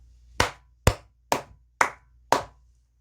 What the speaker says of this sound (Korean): 너무나 기분 좋은 소식이기 때문에 박수 한번 치고 가도록 하겠습니다.